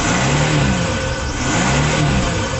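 A 1999 Isuzu Vehicross's 215-horsepower V6 engine, at 193,516 miles, runs steadily with a couple of mild revs rising and falling, loud and close, with no voices.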